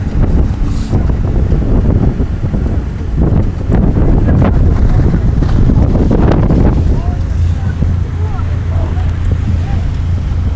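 Stiff headwind roaring across open water during a Princeton versus Navy heavyweight rowing race, a loud continuous buffeting rush over the microphone for the whole stretch, with a commentator's voice running over it.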